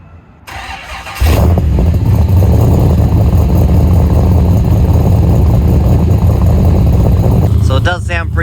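A Mitsubishi Lancer EVO 6 fitted with a turbocharged LS V8 starts up and settles into a loud, steady, close idle rumble, with a short burst of chatter or whine near the end.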